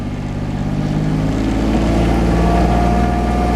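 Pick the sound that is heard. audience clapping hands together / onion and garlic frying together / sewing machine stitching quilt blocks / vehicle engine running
vehicle engine running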